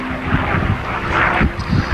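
A WWII fighter in 362nd Fighter Squadron markings flies past at a 1992 RAF Honington airshow, its engine a steady loud drone mixed with wind buffeting on the microphone throughout.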